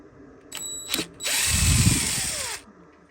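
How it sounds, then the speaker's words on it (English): A cordless power driver backs Torx screws out of a clothes dryer panel, two quick short whirs followed by a longer sustained whine, close and loud. "What you can do is open these screws."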